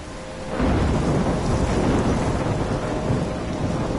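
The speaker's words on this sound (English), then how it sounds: "I'm trapped in a storm?" A thunderstorm rolls in the video game Life Is Strange, heavy rain hissing steadily while a deep rumble of thunder swells in after a quieter start, loud and continuous with nobody speaking.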